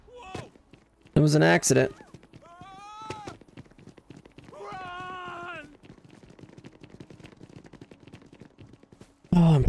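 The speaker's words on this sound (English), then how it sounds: "Whoops, I threw a grenade." A grenade goes off in the sci-fi video game Starfield with a sharp, loud blast, followed by a second burst at the end, while a voice speaks in between over quieter game noise.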